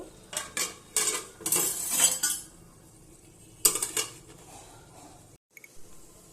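A lid clatters onto a pot of mutton cooking with moong dal, several metallic clinks and scrapes in quick bursts, then a final clank after a pause, close and fairly loud, no talk.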